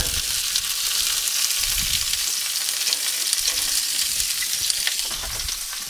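Pork belly frying in hot oil in a pan: a steady, dense crackling sizzle fills the scene, with occasional soft clanks of the pan, no talking.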